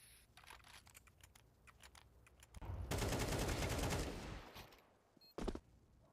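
Desert Eagle shots in Counter-Strike 2 during a match on the Palace area, loud sharp bursts of gunfire cracking through a dense stretch of game noise, with a final separate shot near the end.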